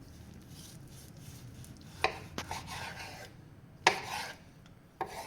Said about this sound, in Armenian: Այ տեսեք, կտրատում ենք